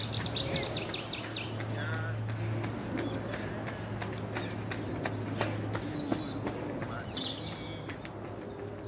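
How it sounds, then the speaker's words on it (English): A Cetti's warbler sings in a London park in spring, its sharp, loud bursts carrying over steady low traffic hum, with other faint birdsong and a brief spoken voice in the background. "A Chetty's warbler is singing, a bird that came to Britain only 40 years ago."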